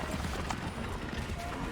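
Horse hooves clip-clopping in the Assassin's Creed III video game, a quick run of faint, muffled hoofbeats lasting under two seconds under soft background game ambience.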